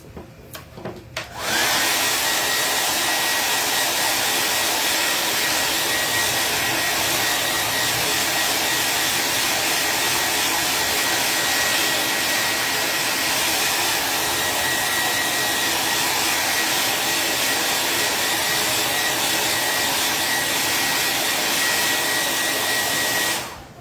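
A hair dryer drying paint on a chalk craft sign switches on after a brief pause and then blows with a loud, steady whooshing roar for over twenty seconds before cutting off, with no voices.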